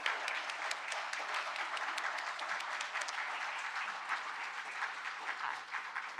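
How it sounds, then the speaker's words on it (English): A forum audience gives sustained, steady applause for candidates at a local election event in El Lago, dense clapping filling the room evenly for about six seconds with no talk over it. "I think they did an excellent job and deserve a round of applause"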